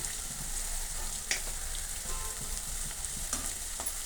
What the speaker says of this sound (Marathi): कांदा असा छान ब्राऊन लाल कलर होजेपर्यंत तळून घ्यायचा